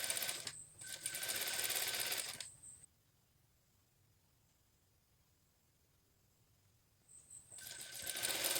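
A sewing machine stitches a Shanghai collar over stiffening and tulle fabric in two steady mechanical runs, one of about two seconds and a slightly shorter one, with a quiet pause between them.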